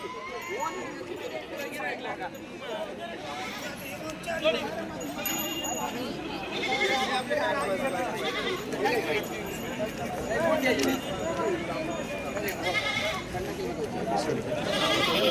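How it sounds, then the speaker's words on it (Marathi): Dhangari breed goats bleat at a busy livestock market in Shirur taluka, Pune district, with scattered calls rising over constant crowd chatter and bustle. "हा मित्रांनो इकडे शेळ्या विक्रीसाठी आपण"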